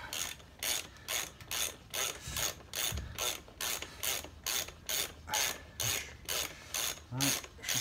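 A ratchet tightens the front wheel spindle on a Yamaha MT07 motorcycle with a steady run of rhythmic clicking bursts, about two each second, at moderate level and close by with no talk.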